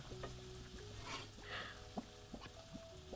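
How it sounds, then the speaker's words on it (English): Cream being stirred in the cooking game Chef Life, a soft sizzling, frying texture with light stirring scrapes and small clicks, brief and steady at low level. "Stir the cream."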